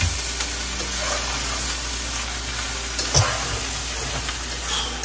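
Egg fried rice being tossed and mixed in a hot pan gives a steady sizzling hiss, with a few soft scraping stir strokes rising briefly out of the even noise.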